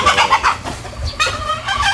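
Several chickens cluck loudly and close up, overlapping bursts of clucks and squawks throughout.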